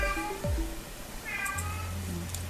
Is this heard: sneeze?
no